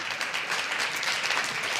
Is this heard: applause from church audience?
yes